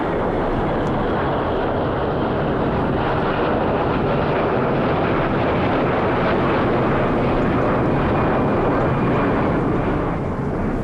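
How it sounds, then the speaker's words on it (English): An empty cargo airplane coming in from Europe to load fish, a loud, sustained jet engine roar that stays dense and steady throughout, close by, with no talking. "Okay, another plane."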